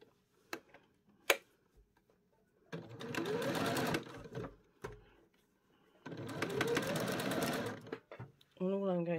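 A domestic sewing machine runs in two steady bursts of stitching along a bodice lining seam, close and clear, with scattered clicks and handling taps in the pauses between runs.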